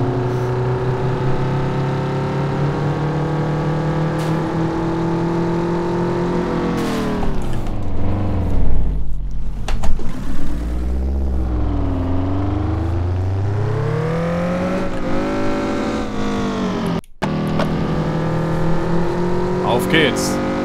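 A Mazda Familia engine in the City Car Driving game revs and accelerates through the gears, pitch rising and falling with shifts and a sustained high-speed run, loud and steady throughout.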